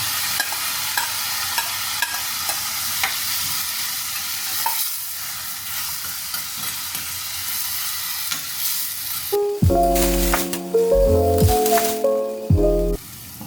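Tomato and onion fry in a pan for sardine pasta, giving a steady close sizzle with stirring scrapes for most of the stretch. Near the end a loud melodic passage cuts in over it.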